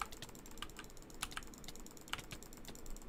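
Rapid, light clicking of a keyboard or mouse during a Minecraft Hypixel SkyWars fight, quiet and steady with scattered sharper clicks and no talking.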